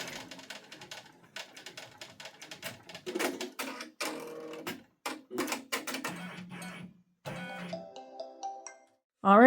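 A Brother PR1055X embroidery machine stitches a name onto a men's toiletry bag, giving rapid irregular ticking and clacking that stops and starts, with brief electronic beeps toward the end.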